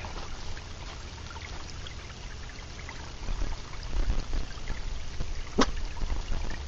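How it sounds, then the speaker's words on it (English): A small woodland creek trickles and burbles at close range with a soft, continuous wash. There is a brief sharper splash near the end and no talking. "And there's a little creek."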